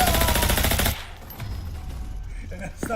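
Rapid automatic gunfire in a video game rattles loudly in a dense burst, then stops and leaves quieter background game sounds and a few faint clicks.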